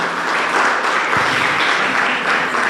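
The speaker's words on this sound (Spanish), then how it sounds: "el Señor merece un gran aplauso" Loud, close congregation applause in a church, a thick continuous roar of many hands clapping throughout, with no talk over it.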